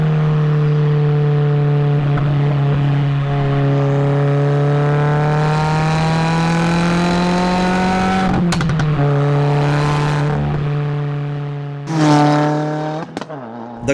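A Cobb Stage 2+ tuned 2016 Subaru WRX cruises with a steady engine drone, then blips sharply during heel-toe downshifts, with two quick rev spikes near the end; no talk.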